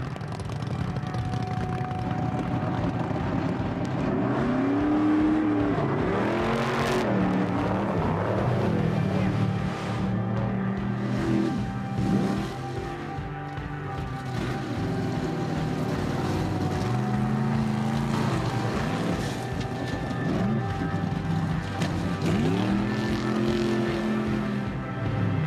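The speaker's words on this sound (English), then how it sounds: "jeeps are meant to literally glide across the surface at top speed" A jeep's engine roars steadily with rising and falling revs as it drives across water, mixed with rushing, splashing water noise throughout.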